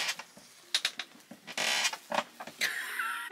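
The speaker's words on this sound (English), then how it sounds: "This chair is so loud." A loud chair creaking and squeaking in irregular bursts as someone shifts their weight, close and alone with no talking.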